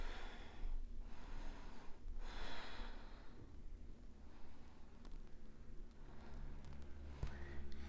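Deep breathing during a yoga pose, with two long, audible breaths close to the microphone, followed by softer, steady breathing.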